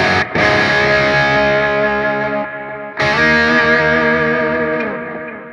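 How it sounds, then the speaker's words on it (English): Electric guitar played through a Hotone Ampero multi-effects amp modeler with a small amount of reverb, ringing out two sustained, distorted chords that each decay into a short, faint ambient tail. "Just a tiny smidge of reverb."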